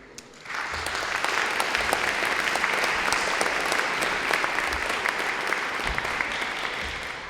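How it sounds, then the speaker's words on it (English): An audience at an academic conference bursts into applause as the speaker takes the floor, the clapping starting abruptly and then holding steady and fairly loud to the end. "You should, if at all, applaud at the end, not at the beginning."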